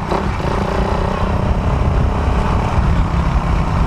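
A Suzuki Raider 150 motorcycle engine drones continuously up close, with a rough, even tone and no clear revs.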